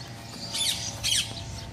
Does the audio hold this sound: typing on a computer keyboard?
no